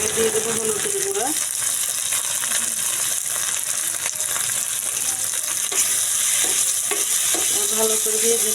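Cumin, ginger-garlic paste, turmeric and salt fry in a pan for a fish curry, a steady close sizzle with stirring scrapes while someone talks over it.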